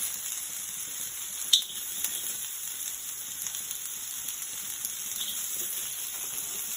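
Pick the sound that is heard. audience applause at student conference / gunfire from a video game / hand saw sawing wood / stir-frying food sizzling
stir-frying food sizzling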